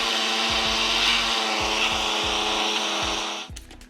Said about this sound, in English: So now we're gonna get this on the blender and blend it up for about 30 seconds